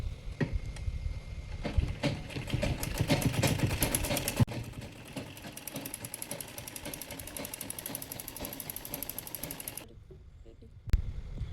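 A sewing machine runs a half-inch inner seam on a blouse, a fast steady mechanical chatter of needle strokes lasting about ten seconds before stopping, with a single knock afterward.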